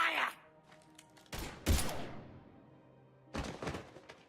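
In Mass Effect 3, a couple of heavy bursts of gunfire and impacts erupt between quieter moments, loud and abrupt with some ringing in the gaps.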